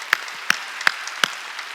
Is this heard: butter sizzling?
no